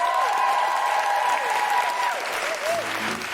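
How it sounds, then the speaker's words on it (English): A live audience claps warmly for the guest of a comedy podcast recording, a sustained wash of dense applause that holds steady and then begins to thin toward the end, with a voice sounding faintly over it. "can I have a big round of applause for my guest co-host"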